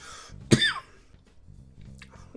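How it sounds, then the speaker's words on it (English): One sharp cough right up close, with a faint low hum and some quiet background noise around it. "coughing."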